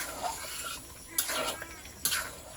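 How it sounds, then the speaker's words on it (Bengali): Mango pickle being stirred in a pan after vinegar is added, with scraping of a spoon against the pot, a few sharp metallic clinks and a soft sizzling background. "ভিনিগার দেওয়ার পরে খুব ভালো করে নেড়ে চেড়ে নিতে হবে"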